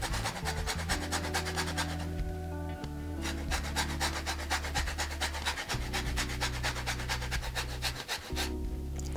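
Orange zest rasped off an orange on a hand grater in a home kitchen, a series of close, quick scraping strokes in bursts over a steady tonal background.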